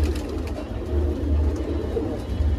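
Shanpuri pigeons cooing in low, continuous murmuring tones, close by, with a steady low rumble throughout and no voices.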